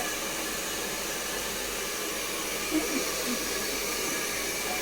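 A hair dryer blows steadily on hair being dried before straightening, giving a loud continuous airy whoosh that stays constant throughout, with a faint brief voice under it.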